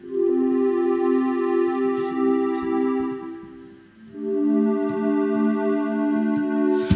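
Sustained synth chords hold steady with a smooth, airy tone, shifting to a new chord partway through, with faint ticking percussion above.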